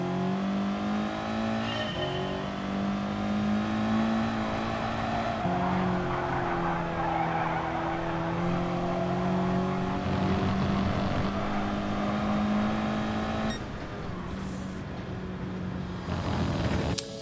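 Race car engine in the Gran Turismo Sport video game, driven with a G29 wheel on PS4 Pro, roars steadily and loud throughout, with gear shifts, revving changes and some tire squeal, no talking.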